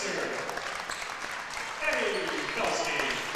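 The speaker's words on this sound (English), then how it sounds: "they're making a great amount of noise for the amount of people that are in here tonight cheering for these seniors" A small home crowd at a girls' high school basketball game cheers for the seniors on senior night, a continuous wash of clapping and cheering under a commentator's voice, swelling slightly toward the end.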